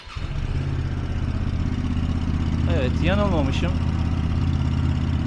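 A QJ Motor SRV motorcycle engine idles steadily with a low, even rumble close by, while someone speaks briefly over it.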